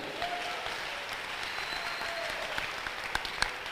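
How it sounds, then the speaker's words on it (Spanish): A church congregation applauds in a steady, even wash of many hands clapping at moderate volume, with a few sharper claps near the end. "Dele otro aplauso fuerte al Señor."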